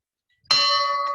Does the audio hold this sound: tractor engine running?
no